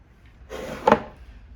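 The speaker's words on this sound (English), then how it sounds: "if I can just get to the handle, the drawer can be opened" Secret wooden drawer of a writing slope slid open, a short dry wooden scrape peaking in one sharp knock, close and brief against a quiet room.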